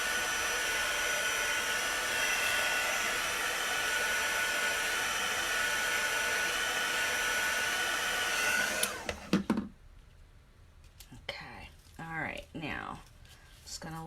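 A hair dryer blows loud and steady on chalk paste for about nine seconds, then cuts off, and someone talks afterward.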